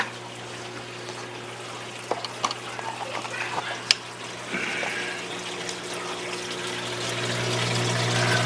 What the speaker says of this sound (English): the water's passing through the pad and now dripping through all the series of holes in there, and in turn it's raining down over the bioballs